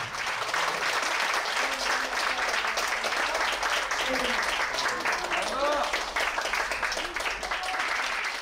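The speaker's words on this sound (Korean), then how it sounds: "관객들의 박수가 쏟아진다" An audience applauds after a complete traditional Korean pansori performance of Simcheongga. Dense, sustained clapping fills the hall at an even level, with a narrator's voice speaking over it.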